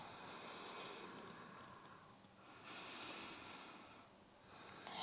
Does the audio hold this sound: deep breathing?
yes